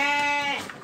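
A male local sheep bleats once in a loud, wavering cry, close to the listener at a market, with no voices over it.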